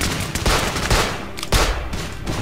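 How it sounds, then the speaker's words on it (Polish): Gunfire in the WWII shooter Uprising44 comes in several sharp, loud bursts: overlapping shots and rattling volleys with reverberant tails, spaced irregularly across the short stretch and heard with no speech. "Patrzcie, strzeliłem, nie trafiłem, a i tak go zabiłem."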